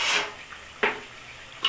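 A spoon scrapes and stirs egusi soup in a pot, three soft separate strokes about a second apart, close and fairly quiet over a faint steady background hiss.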